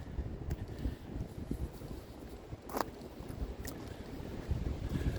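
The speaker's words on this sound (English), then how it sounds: "that wind in my face does feel very cold" Wind buffets a microphone outdoors on a cold day, a steady rumbling roar with a few brief gusty bursts, no voices heard.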